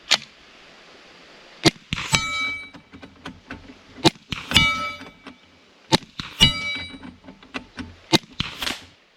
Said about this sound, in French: Le gong là-bas.